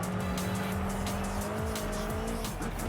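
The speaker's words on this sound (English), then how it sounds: "We've got a very artful and totally intentional drift tap instead." A car in Forza Horizon 5 slides through a corner, tires squealing in a steady high whine over a loud engine roar, sustained and close for the whole moment with no voices.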